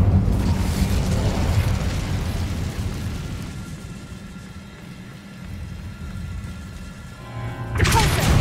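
In the Hogwarts Legacy video game, an Incendio fire spell is cast, giving a loud, sustained roaring whoosh of flame that slowly fades, then a fresh burst near the end.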